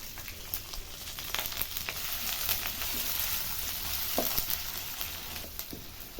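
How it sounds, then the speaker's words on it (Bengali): Chopped onion fries in a pan for a pointed gourd chop recipe, giving a continuous bright sizzle and crackle with scattered pops and stirring noises, close and steady, with no talking. "একটু ভাজা হয়ে গেছে"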